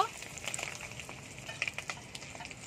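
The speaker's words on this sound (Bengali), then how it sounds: "ডিমটা আমি লাল করে ভেজে নেব।" Boiled eggs coated in salt and turmeric fry in oil in a pan, a faint, steady bed of sizzle broken by scattered light crackles and pops, with no talk.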